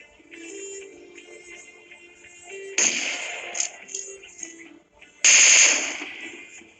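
Gunshots in the PUBG battle game, including an AWM sniper rifle, come as two sharp loud cracks with ringing tails over quieter game ambience.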